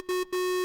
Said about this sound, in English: So instead of the sine wave, we're going to use the pulse wave.